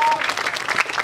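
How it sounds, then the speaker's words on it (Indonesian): Applause from an audience at a campus orientation event (OPAK BSI 2017), steady dense clapping from a crowd lasting about a second, moderately loud with no talk over it. "Tepuk tangan dong."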